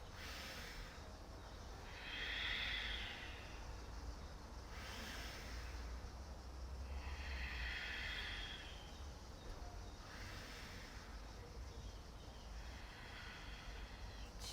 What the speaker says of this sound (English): Take that lengthening breath in through the nose and out through the nose